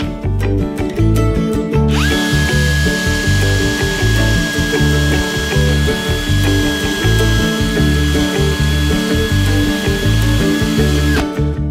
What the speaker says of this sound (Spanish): Y vamos a hacer un agujero ciego. Ahí introduciremos el tubillón